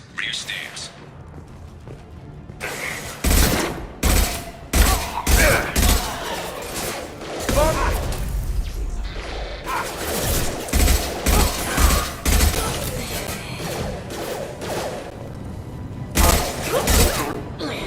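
Rapid bursts of gunfire crackle through a Mass Effect 2 firefight against Eclipse mercenaries, shots coming in clustered volleys with brief pauses, while voices call out between the bursts.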